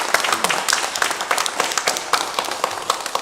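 A church congregation at a Sunday service breaks into brisk, dense applause, many hands clapping irregularly at a steady loudness across the room, with a few voices faintly mixed in.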